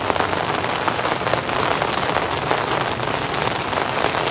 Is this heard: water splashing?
no